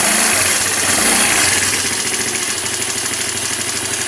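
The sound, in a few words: SYM Radar 125 scooter CVT clutch belt spinning, engine running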